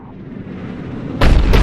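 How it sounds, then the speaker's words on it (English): In the Mass Effect game on Tuchanka, a Cerberus cannon fires: a rising rumble builds before a heavy, booming blast hits, followed by a second burst, loud and close with no talking. "Looks like Cerberus got that cannon operational, Commander."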